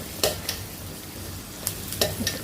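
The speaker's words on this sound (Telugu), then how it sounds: "ఉల్లిపాయ, జీలకర్ర, ఆవాలు వేసి అంతా పోపు పెట్టుకుందామండి." Onion, cumin and mustard seeds fry in hot oil with a steady close sizzle, broken by a few sharp clicks of a spoon stirring against the pan.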